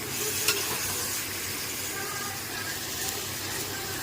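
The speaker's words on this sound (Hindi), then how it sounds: "पूरा अच्छा से भून लेंगे।" Masala spices frying and being stirred in a pan for desi-style chicken rice, a steady soft sizzle with faint scraping of the spoon, no talking.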